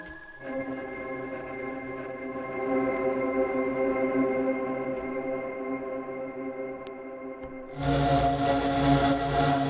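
Sustained sampled tones from the Playbox Kontakt instrument with a long, washy reverb tail that swells and blends, ending in a brighter, denser burst of sound.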